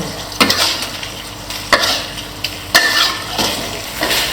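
Southern Thai khua mu pork is stir-fried in a pan, sharp spatula scrapes and clanks recurring every second or so over a loud, steady sizzle.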